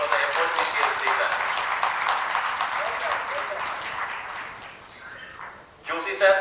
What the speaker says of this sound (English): we can definitely honor Mr. Pranav Kapadia with a loud round of applause for the effort which he has taken